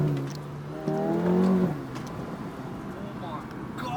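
A tuned 750 bhp Mercedes G63 AMG engine rises in a short, loud rev around a rough idle before easing back, with voices talking nearby and a brief second blip at the end.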